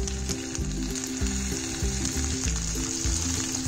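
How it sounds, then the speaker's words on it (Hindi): Chopped green chillies sizzle and fry in hot fat for a langar-style dal tadka, a steady close crackle with soft scraping as they are stirred, no talking. "इसको भी मैं चलाते हुए भून लेती हूँ"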